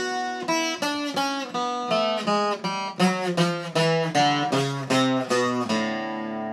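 A plucked requinto guitar plays a rapid run of ornamented notes in a steady rhythm, close and clear, ending on a sustained chord in A.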